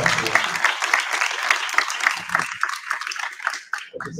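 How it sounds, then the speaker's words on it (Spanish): Strong audience applause welcoming a speaker at a Peruvian mining conference, dense rhythmic clapping filling the hall at full volume, with some crowd voices mixed in before it thins out. "por favor, reciban con fuerte aplauso"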